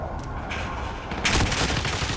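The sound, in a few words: precision airstrike explosions in Call of Duty, a video game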